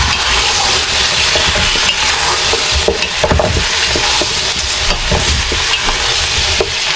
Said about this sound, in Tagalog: haluin lang po natin ulit para po mabaliktad yung mga karne